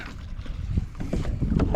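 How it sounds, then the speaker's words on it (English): A kayak paddled through shallow water on a camping trip, with soft irregular splashes and paddle swishes close by under light wind noise. "out here kayaking."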